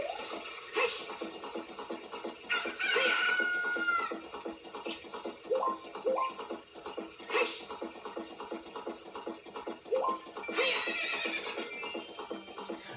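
Epona the horse whinnying repeatedly in Legend of Zelda: Ocarina of Time on N64, several bright neighs over a rhythmic clip-clop of hooves and game music.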